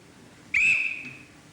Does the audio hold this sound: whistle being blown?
yes